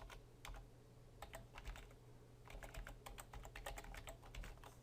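Quiet typing on a computer keyboard while entering HTML and script code, with quick clusters of key clicks separated by short pauses.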